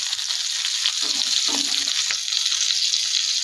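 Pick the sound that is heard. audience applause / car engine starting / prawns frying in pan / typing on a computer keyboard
prawns frying in pan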